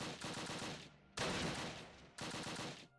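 A German machine gun in the Close Combat wargame at Arnhem Heights fires three sustained bursts, each a dense, rapid rattle of shots, with brief gaps between them and the volume falling off at the end of each burst.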